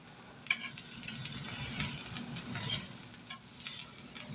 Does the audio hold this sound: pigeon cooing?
no